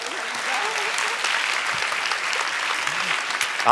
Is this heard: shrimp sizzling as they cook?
no